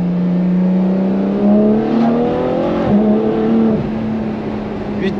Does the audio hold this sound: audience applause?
no